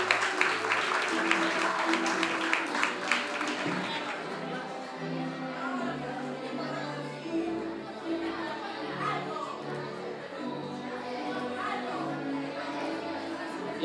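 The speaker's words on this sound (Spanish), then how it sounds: "El aplauso para los padres también de Sebastián." Applause for a pupil's parents at a school graduation party in a hall, clapping loudest at the start and thinning into crowd chatter and background voices.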